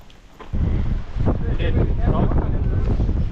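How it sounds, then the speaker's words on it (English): Strong wind buffets the microphone at Cape York, the northern tip of Australia, a loud continuous rumbling roar after a quieter first half-second, with faint voices mixed underneath. "A little bit windy, but we're just getting some photos"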